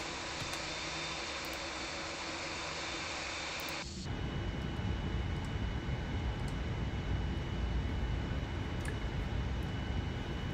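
A Boeing 787-8 taxiing at Faro in the Prepar3D v5.2 flight simulator, QualityWings model: a steady, droning engine and air roar that shifts abruptly partway through to a lower, broader rumble, with faint ticks over the top.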